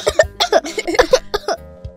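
A series of sharp, close, loud coughs in quick succession, about half a dozen bursts in two seconds, with no talking.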